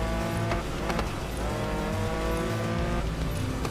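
Race cars roaring at speed in GRID Legends, a continuous loud engine drone with tire noise and a couple of sharp impact-like transients, no speech over it.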